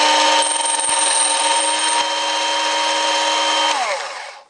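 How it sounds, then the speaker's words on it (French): A flat sander runs steadily against a metal blade, giving a loud, continuous motor whine with gritty grinding, a couple of faint clicks, then the motor spins down and fades near the end. No one speaks. "on pourrait très bien imaginer le repasser un petit coup à la ponceuse à plat comme ça"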